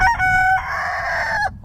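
A rooster crowing loudly and close, one drawn-out cock-a-doodle-doo call lasting over a second.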